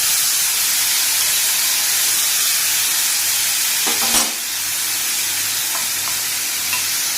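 Mango pieces sautéing in hot tempered oil with chillies in a pan: a steady, loud broadband sizzle throughout, with a brief metallic clink of a stirring utensil midway.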